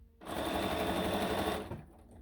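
A sewing machine runs in one steady burst of about a second and a half while stitching a rail fence quilt block, a close, even whirring hum that starts and stops abruptly, with no talking.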